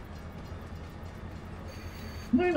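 A train in the video game Farming Simulator 22 rolls along with a steady low rumble and faint rhythmic clatter, ending in a sudden louder burst of mechanical noise.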